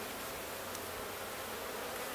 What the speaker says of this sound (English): There's a lot of bees in here that are ready to hatch.